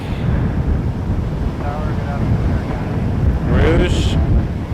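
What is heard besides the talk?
wind blowing into microphone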